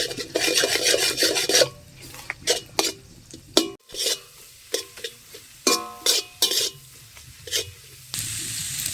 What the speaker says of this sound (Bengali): ডিম এবং সবজিগুলো একসাথে ভেজে নেব।